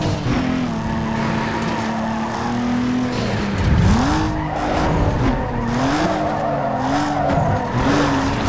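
Tires squeal in a long sustained handbrake skid in Need for Speed Underground 2, the pitch wavering and rising as the car slides through a corner, loud and close over steady engine drone.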